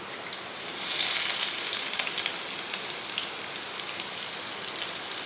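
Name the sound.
dried chili, onion and green chili frying in mustard oil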